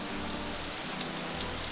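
Driving rain in the PC video game Death Gate forms a dense, steady hiss throughout, loud and uniform with no talking over it.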